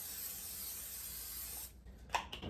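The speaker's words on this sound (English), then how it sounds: "We are gonna add some non-stick cooking spray." Non-stick cooking spray is sprayed into a casserole dish, a steady close hiss that lasts nearly two seconds before stopping, followed by a few faint kitchen clicks.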